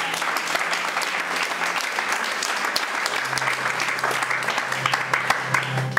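A church congregation applauds and cheers steadily during a French-language sermon, dense clapping filling the room at an even level, with a low sustained voice or tone joining partway through.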